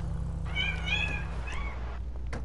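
In a GTA 5 game, a cat lets out a few drawn-out meows, fairly close and clear over a steady low hum, with no talking.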